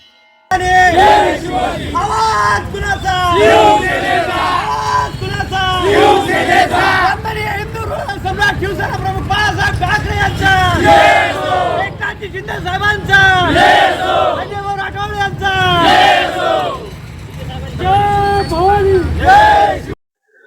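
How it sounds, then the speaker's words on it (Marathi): A large crowd of Shiv Sena supporters celebrates in Chhatrapati Shivaji Maharaj Chowk in Digras, a loud, continuous mass of chanting, shouts and cheering voices that swells and persists without pause. "शिवसैनिकांनी एकत्रित येऊन जल्लोष केला"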